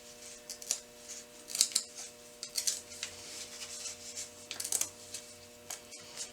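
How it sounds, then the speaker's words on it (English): Paper is torn away from machine-stitched quilt piecing in short, quiet ripping and rustling bursts, close-up, with small crisp snaps as the perforations give way and no talking. "We need to pull the paper away."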